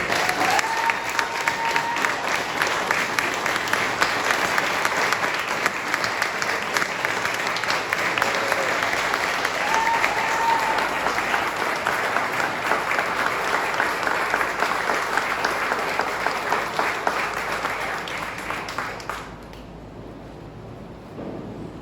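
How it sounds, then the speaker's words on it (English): Sustained audience applause at a community action assembly about the Santa Susana Field Lab, dense and steady for about nineteen seconds before dropping away abruptly. "Please join me in applauding Daniel."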